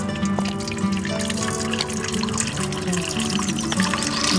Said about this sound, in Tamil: தண்ணியை எடுத்து வேறு பாத்திரத்தில் வச்சிடலாம்.